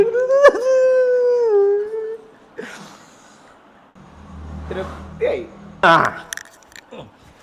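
A dog lets out a long, loud, rising-and-falling howl up close, followed by scattered whimpers, shuffling noises and brief jangling.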